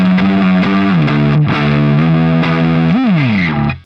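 Heavily distorted electric guitar plays an intro bend high up the neck, a sustained loud riff with slow pitch bends and a sharp bend near the end before cutting off.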